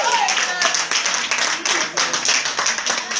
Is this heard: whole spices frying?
no